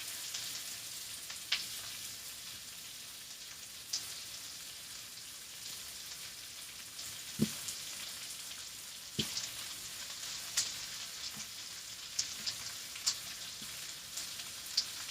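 Onions frying in a pan give a steady, close sizzle that runs without a break, with a few soft clicks and taps from stirring now and then.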